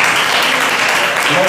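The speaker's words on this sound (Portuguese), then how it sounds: "As palmas louvem a Deus." A church congregation claps in praise during a worship service, a loud, dense wash of many hands with voices mixed into the din.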